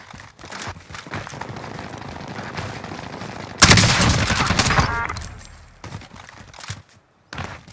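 Gunfire in Call of Duty Cold War Warzone, scattered shots and then a loud, dense burst of firing and impacts lasting over a second, followed by quieter thuds.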